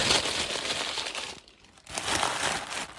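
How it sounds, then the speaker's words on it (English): Packing paper crinkling and crushing as it is stuffed into the bottom of an Easter basket, a close, dense rustle that pauses briefly partway through and then resumes, with no speech. "And then I'm going to fill the bottom of it with some packing paper."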